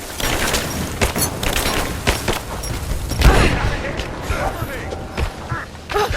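A grenade blast and bursts of gunfire sound during a firefight in the Rise of the Tomb Raider video game, with sharp repeated shots and a heavier boom near the middle. Combatants shout over the noise.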